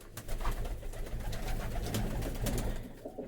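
Pigeons coo softly and steadily in a low, murmuring chorus, with scattered flutters and scuffs from a flock close by.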